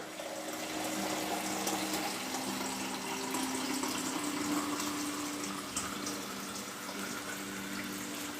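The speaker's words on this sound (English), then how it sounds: "I'm going to add enough water" Cold tap water runs steadily into a stew pot for homemade beef stew, a continuous close splashing fill with no talking over it.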